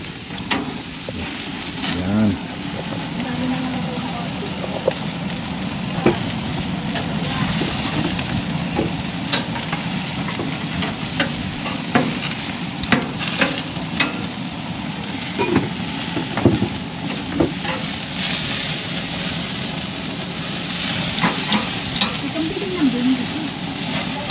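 Food fries and sizzles steadily in a pan in a backyard, with scattered scraping and clinking of a utensil stirring it, continuing close and even throughout.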